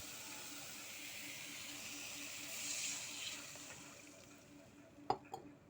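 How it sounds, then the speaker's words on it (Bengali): Water poured into sizzling cooked spices in a pan for a tilapia fish curry, producing a steady steamy hiss that swells then fades, ending with a couple of sharp clinks. "তো এখন আমি ওটা জল দেবো।"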